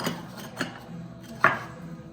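Tile pieces being cut to fit the back of a herringbone pattern dry fit: three sharp cutting or snapping knocks, the last the loudest, close and alone with no talk.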